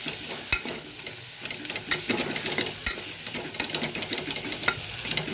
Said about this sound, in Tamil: இது எல்லாத்தையும் நல்லா கலந்து விடுங்க